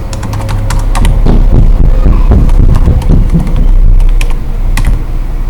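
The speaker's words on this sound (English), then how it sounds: "And then we're going to type in for 2014." Fast, continuous keystrokes on a computer keyboard, close and loud, clattering in an uneven rhythm for several seconds with a low hum underneath and no talking.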